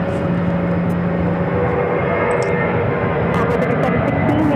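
A Delta Airbus A321 jet arriving at Phoenix airport from JFK, its steady engine roar holding loud and continuous throughout, with a few faint high ticks above it.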